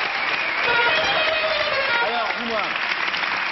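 Studio audience applause for a singer on a French television variety show, a steady broadband wash of clapping heard under a presenter's speech.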